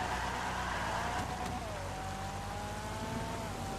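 Rain falling in GTA Online while driving a 2001 Nissan Silvia S15 Spec-S on low grip tires, a steady hiss of rain under a constant engine drone and a faint whining tone.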